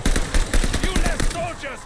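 Rapid automatic gunfire in Call of Duty Vanguard Zombies on the Der Anfang map: a close, loud burst of quick repeated shots lasting under two seconds, with a voice talking over it.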